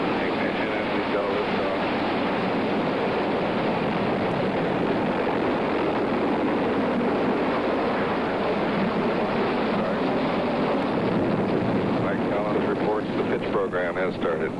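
The Gemini 10 rocket launch gives a steady, heavy, broadband engine roar that stays loud throughout while an announcer talks over it.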